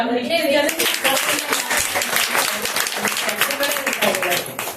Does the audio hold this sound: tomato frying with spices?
no